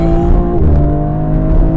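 A BMW M4 CSL engine pulls hard under acceleration, a loud, steady, close-up roar with strong harmonic drone and no one speaking.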